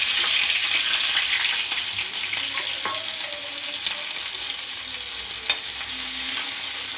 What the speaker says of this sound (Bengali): কড়াই তেল দিয়ে দিয়েছি এবার ভেজে রাখা পেঁয়াজগুলো দিয়ে দিলাম